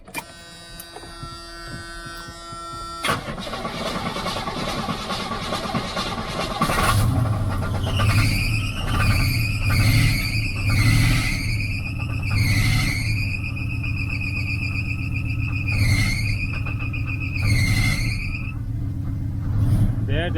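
A 1979 Pontiac Firebird Trans Am with a 6.6 big-block engine idling up close, a steady loud rumble joined by a wavering belt squeal that rises and falls over and over.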